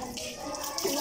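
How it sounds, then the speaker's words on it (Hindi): Water splashes over a bicycle tyre during a wash, a dense, close rush of spraying and running water lasting about a second. "सबसे पहले इसमें टायर धोएंगे हम।"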